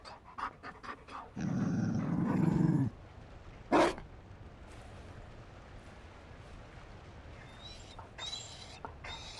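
A Mabari war dog in Dragon Age Inquisition gives a few short barks and a sustained panting growl, then a single sharp yelp, with quiet gaps and faint game ambience between the bursts.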